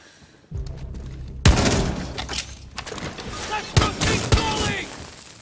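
Gunfire in a shooter video game crashes in as loud, dense bursts of rapid shots with sharp thuds between them, sustained and close, with people talking underneath.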